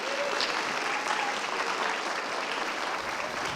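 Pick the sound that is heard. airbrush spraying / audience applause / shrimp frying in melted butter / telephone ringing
audience applause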